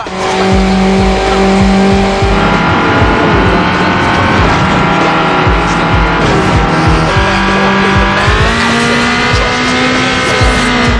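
Street racing cars in the Need for Speed Underground video game rev and roar continuously, loud and close, with engine pitch climbing and shifting through gears and occasional tire squeal, a dense sustained racket without any talking.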